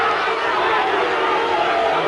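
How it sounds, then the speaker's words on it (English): A rugby league stadium crowd at an under-21 Great Britain versus France match in Wigan rumbles with a steady, loud wash of murmuring and jeering disapproval after a scrum-half is sent to the sin bin. "And the crowd don't like it."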